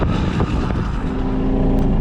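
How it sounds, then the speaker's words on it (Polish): A small motorbike ridden across a farm, its engine droning steadily while wind buffets the microphone in a constant, loud, close rush with no pauses. "na pewno wieje, bo jadę motorkiem"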